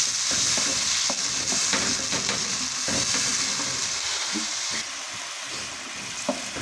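Blended onion and tomato are stirred into frying garlic and ginger for sarson ka saag, a loud, steady sizzle with wet scraping of the spoon, the sizzle easing slightly toward the end.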